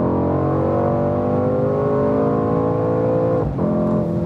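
A Mercedes-AMG C63 S Coupé accelerates hard on a racetrack, its engine note loud and sustained, climbing steadily before a brief dip near the end as it shifts, then pulling again.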